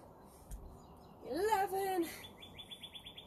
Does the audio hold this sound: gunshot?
no